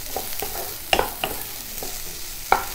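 Vegetables for a beetroot curry fried quickly in a hot pan, a soft, even sizzle broken by a few louder spatula scrapes and clacks against the pan, with no one talking.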